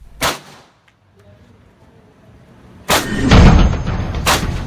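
A DRDO-made carbine fires during trials for the Indian Army, with sharp, loud bursts at intervals and a longer sustained volley of rapid shots at the end.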